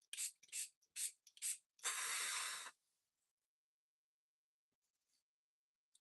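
Makeup setting spray is pumped in four short hissing mists, then one longer continuous spray, close to the listener, followed by near silence.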